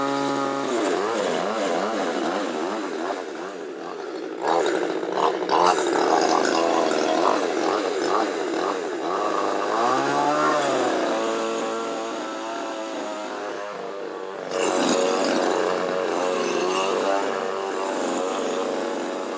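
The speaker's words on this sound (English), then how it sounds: "normally I would have warmed up the chainsaw before I started the act, but I forgot" Chainsaw warming up at a street busker festival, its engine loud and close, whining and revving up and down in wavering pitch, easing briefly before roaring again.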